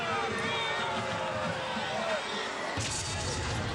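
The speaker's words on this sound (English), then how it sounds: "I'm hearing boos" Large crowd in the stands at a 2007 Midwest City vs Moore high school football game, a loud continuous roar of disapproving voices that swells sharply near the end, with commentators talking over it.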